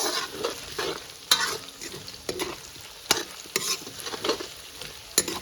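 Potatoes fry in a pan for a jackfruit dish, a steady sizzle broken by several sharp clatters of a spatula stirring against the metal.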